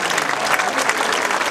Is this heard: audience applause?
yes